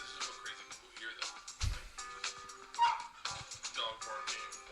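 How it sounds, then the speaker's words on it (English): A small dog yips and whimpers in short, uneven bursts indoors, fairly faint and mixed with background household noise. "Dog barking, water running"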